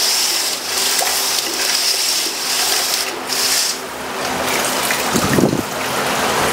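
Water dissolved with silver is poured over silver anklet work in a workshop, a continuous splashing, trickling wash heard close and fairly loud, with a brief gurgling burst near the end.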